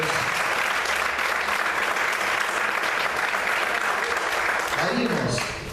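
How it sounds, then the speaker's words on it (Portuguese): A church congregation applauds at length during a Portuguese-language sermon, a thick, loud wall of clapping that runs unbroken, with a voice rising over it near the end as the sound fades slightly. "Você pode aplaudir o Senhor por isso."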